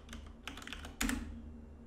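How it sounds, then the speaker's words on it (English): A computer keyboard typing a console command for a Borderlands 2 patch, a few quick soft key clicks followed by a louder burst of presses, close up and without talk. "then typing out this command"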